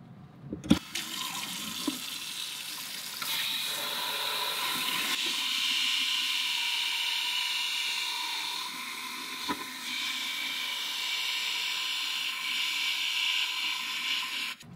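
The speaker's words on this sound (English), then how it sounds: "use the sink, and we're going to splash water on top of it" Water runs from a sink tap in a steady hissing stream, splashing continuously onto a Pelican CE1180 phone case for a long stretch after a few brief clunks at the start.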